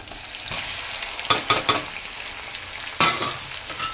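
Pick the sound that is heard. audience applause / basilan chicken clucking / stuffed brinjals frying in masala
stuffed brinjals frying in masala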